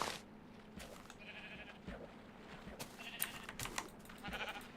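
Sheep in Minecraft bleat several times, short, faint calls scattered irregularly. Light clicks come between them, and no voice speaks.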